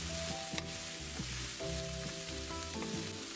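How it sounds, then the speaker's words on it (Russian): Chopped vegetables, including onion, sizzling and frying in a pan while being stirred, a steady close crackle with a few scraping stir strokes throughout, no talk. "Перемешиваю."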